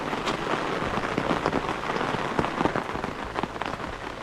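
Steady rain patters through a pine forest, a dense, continuous hiss with scattered louder drops striking close by, with no voices.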